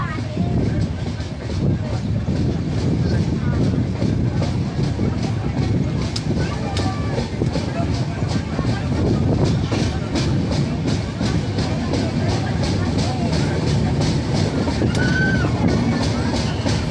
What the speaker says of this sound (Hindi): तो हमारी ट्रेन उमरी रेलवे स्टेशन से भी निकल गई।